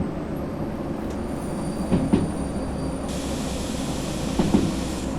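A DE02 shunter locomotive runs steadily in the video game Derail Valley, a continuous low mechanical rumble with a few faint clanks, heard alone without voices.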